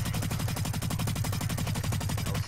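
Rapid automatic gunfire from the shooter video game Blacklight, a steady dense stream of loud, evenly spaced shots filling the whole stretch with no pauses.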